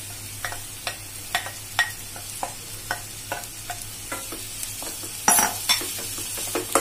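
Finely chopped onions sizzle over medium heat in a hot pan while a spoon stirs them in regular scraping strokes, with one louder clatter near the end.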